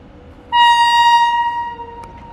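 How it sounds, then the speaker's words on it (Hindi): A train horn at a diamond railway crossing in Bhusawal sounds with a loud, steady, tonal blast close by. It lasts about two seconds and fades slightly toward the end, with no talking. "भाई प्लीज हॉर्न मत बजा।"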